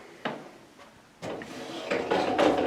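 Old closet doors in an old house are opened and closed, giving a few hollow wooden knocks and thuds, then a cluster of louder clattering bumps nearby.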